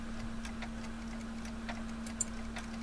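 A clock ticks steadily in the Back to the Future video game, faint regular clicks over a low constant hum, with no talk.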